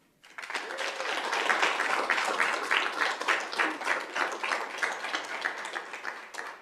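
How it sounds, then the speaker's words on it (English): Audience applause for a high school junior at a school governing board meeting: dense, sustained clapping from a roomful of people, starting abruptly and continuing steadily throughout. "A huge round of applause to Liberty High School Junior, Jackson McLean."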